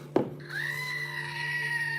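A human voice imitates a mountain goat's bleat: a short knock, then a long, steady, nasal bleating tone held to the end.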